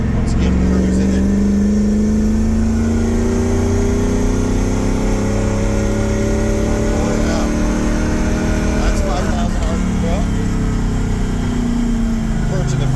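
Ford 460 big-block bored to a 532 stroker with a roller cam and EFI, revving hard with rising engine pitch toward the rev limiter, loud and close, with a brief stutter near the top before settling back.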